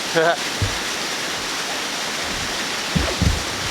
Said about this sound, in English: Hope folks can see that little waterfall, but it's not too loud.